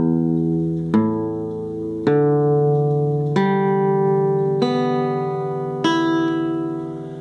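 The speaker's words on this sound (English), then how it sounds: "let's see if I can do this with the pick like this, and we'll just strum the strings" An 1897 Washburn New Model Brazilian rosewood parlor guitar is strummed with a pick, five or six separate chords each ringing out and decaying before the next stroke, played alone and close with no talking.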